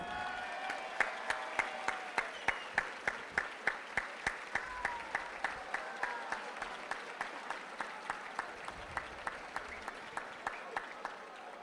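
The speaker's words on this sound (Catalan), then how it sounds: "Un fortíssim aplaudiment per a l'ambaixador moro 2023, Chimo Tursiscar" Crowd applause for the Moorish ambassador at the Moros i Cristians festival announcement in Pego, joined by sharp, evenly spaced percussive beats that keep a steady rhythm throughout, like rhythmic clapping in time over a background of crowd noise.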